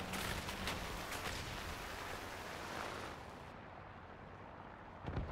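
Tank cannon and gunfire in the War Thunder video game rumble in a dense, loud wash of blasts that gradually fade, then a fresh sharp burst hits near the end.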